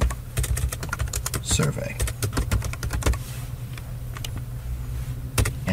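Rapid keystrokes on a computer keyboard while entering text into a chart footnote in SPSS, a dense run of sharp clicks under and between a narrator's speech.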